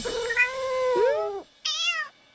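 A cat meows a few times up close, a long drawn-out call followed by a short higher mew.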